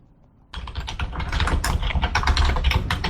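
Rapid, continuous clatter of keys on a computer keyboard while playing World of Warcraft, starting abruptly after a quiet moment and running steadily and close up with uneven bursts of keystrokes.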